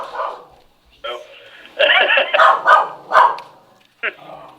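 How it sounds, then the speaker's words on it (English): A dog barks excitedly in a few loud bursts close by, mixed in with people talking during an interview. "I got a dog going crazy here"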